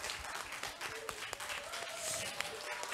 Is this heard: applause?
yes